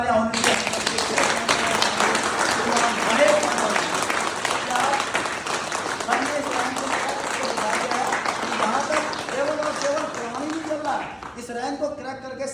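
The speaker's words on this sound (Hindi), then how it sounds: "मैं चाहूंगा इसके लिए जोरदार तालियां होनी चाहिए।" A large crowd applauds steadily, dense clapping sustained throughout with a voice briefly heard over it.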